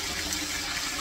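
Water gushes steadily into a bucket to fill it for washing a human-hair topper wig, a continuous close rushing pour with no talk over it.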